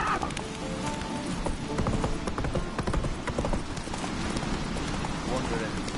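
Roach gallops hard in The Witcher 3, with dense, rapid hoofbeats under wind and ambient noise at close range.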